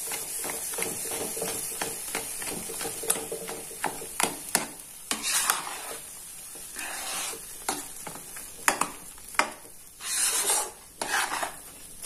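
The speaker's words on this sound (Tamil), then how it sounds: "ஸோ இது நல்லா நெய்ல வந்து ஃபர்ஸ்ட் ஃப்ரை ஆகட்டும்" Beetroot halwa frying in ghee for Ashoka halwa, stirred with a spoon, giving steady rasping scrapes and a soft sizzle with a few louder strokes, close and alone.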